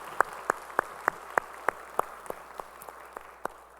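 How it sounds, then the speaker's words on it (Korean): Rhythmic clapping in a church worship service, about a dozen sharp, evenly spaced claps in a steady beat, clear and fairly close, fading slightly toward the end. "주님께 영광의 박수 올리겠습니다"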